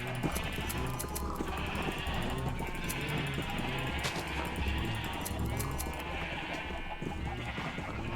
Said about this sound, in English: We're probably not gonna have quite this many sheep.